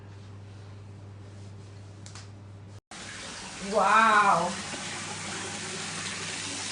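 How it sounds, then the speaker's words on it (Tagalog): Strong water gushes from a tap once the supply returns in a home abroad, starting abruptly partway through as a loud, steady rush, with a brief excited exclamation from a woman over it. "Ang lakas ng tubig, mga loves! I have water na!"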